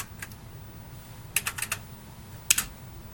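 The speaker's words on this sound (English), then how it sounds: "that keyboard's bouncy" Keys typed on a TRS-80 Model 1 computer keyboard, a few sharp clicks, then a quick burst of several keystrokes and a final pair, close and clear over faint background hum.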